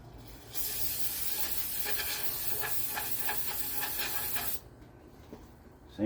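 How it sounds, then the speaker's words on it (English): Aerosol brake cleaner sprayed onto a Raleigh Sports bicycle fork, a steady close hiss lasting about four seconds before cutting off abruptly into quiet. "Just using a little brake cleaner."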